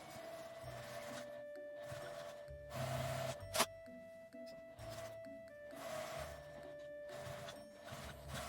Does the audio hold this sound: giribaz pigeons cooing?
no